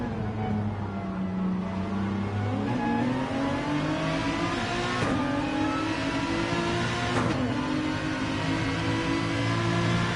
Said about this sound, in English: Lovely sound, Aston Martin.